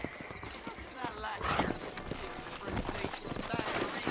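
Horses' hooves clip-clop at a steady walk in the video game Red Dead Redemption, moderately close, with an occasional whinny and some background game ambience.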